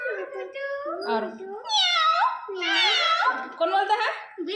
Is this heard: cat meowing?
yes